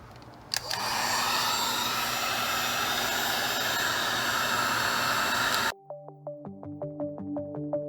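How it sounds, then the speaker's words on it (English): A heat gun blows a steady, loud whooshing roar onto the bimetal strip of a Mercedes W124 viscous fan clutch. It cuts off abruptly near the end, leaving a series of short, evenly spaced tonal beeps. "I got a heat gun and I got my thermometer, and we're gonna keep an eye on this"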